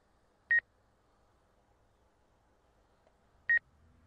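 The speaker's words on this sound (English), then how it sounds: "people are complaining about a beeping" Electronic beeps in livestream audio during a DJI M300 RTK drone flight demo: two short, clear tonal beeps spaced about three seconds apart over near silence.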